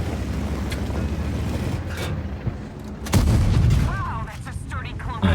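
A heavy tank gun fires in a World of Tanks match, heard as a loud booming shot with a rumbling tail about midway through, set among steady engine and battle noise with more faint distant shots.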